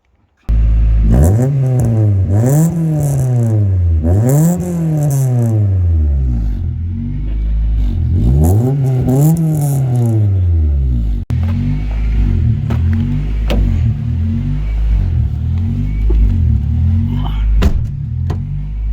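A Honda Accord Type R with a bucket seat and no power steering revs up through the gears in rising and falling sweeps, loud and close from inside the cabin, then settles into a steady engine drone.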